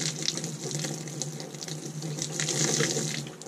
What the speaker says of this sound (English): I'm going to take this pitcher of water.